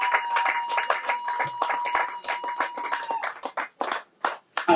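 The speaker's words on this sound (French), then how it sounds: "Acclamez très fort pour elle." A church audience claps for a woman, a burst of dense, rapid hand claps from many people that thins out into scattered, uneven claps toward the end.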